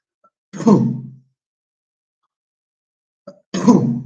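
Two separate rough coughs with a throat-clearing quality, close and fairly loud, separated by a few seconds of silence.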